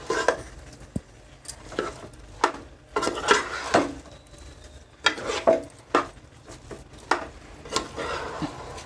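Chitti muthyala rice being mixed with a ladle in a metal pot for chicken biryani: irregular scraping and clinking strokes, close and moderately loud, repeating every second or so with soft stirring rustle between.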